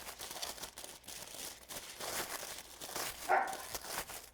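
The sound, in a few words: puppy barking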